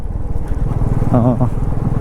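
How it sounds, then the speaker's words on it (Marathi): A Royal Enfield Bullet 350 motorcycle rumbles steadily underway on a rough, badly broken road, its low engine thump continuous and close throughout, with a voice briefly speaking over it. "Nonstop me bike चालवतोय."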